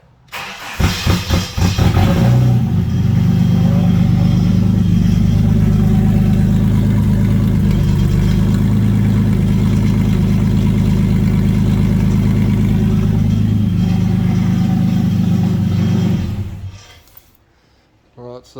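A Ford BA XR6 engine with no exhaust fitted cranks, catches and settles into a loud, raw, throbbing idle close by, running steadily for a long stretch before shutting off.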